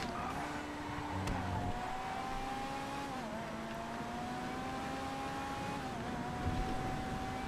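A race car engine in GTA FiveM drones steadily at moderate volume, its pitch holding nearly level with slight dips as it shifts, under a wash of wind and road noise.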